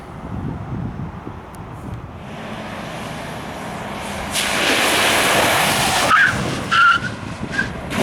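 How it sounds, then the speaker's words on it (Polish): A Mercedes-Benz brakes hard in an emergency stop, tires skidding with a rising hiss and rumble that swells midway, then a few short squeals as it comes to a stop. "odgłosy hamulców w Mercedesach"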